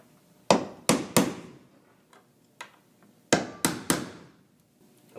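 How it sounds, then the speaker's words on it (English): Sharp hammer taps on a nail set drive finishing nails into window trim, heard as a quick triple strike, a couple of lighter taps, then another quick triple strike, close and crisp against a quiet room. "Finish up with the nail set"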